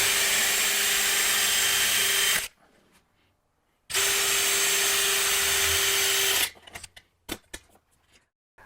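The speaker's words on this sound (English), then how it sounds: "And then I'll drill through." An electric drill bores through a metal seat mount in two loud, sustained bursts separated by a short pause, followed by light clattering of the tool and workpiece.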